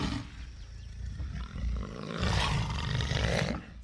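A black panther in the film Apocalypto gives a deep, rough roar that swells and rolls for several seconds, loud and close, then fades.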